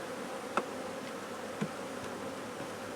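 Honey bees buzz in a dense, steady drone inside a brood box while being fed sugar syrup from an Ashforth feeder, with a few louder individual bee passes standing out close by.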